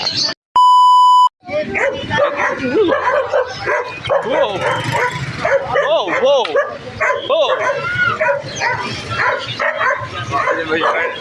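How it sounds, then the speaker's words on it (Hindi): Several dogs, including a black Jumbo Shepherd, bark and yip repeatedly, some close and some farther off, mixed with people talking; a short electronic beep sounds near the start. "कुत्ते भौंक रहे हैं।"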